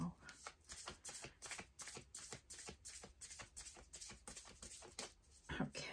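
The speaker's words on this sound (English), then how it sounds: "Bottom of the deck when I stop shuffling is acceptance, right?" A deck of tarot cards is shuffled over and over in a steady, quick riffle pattern, close and fairly soft, with no talking.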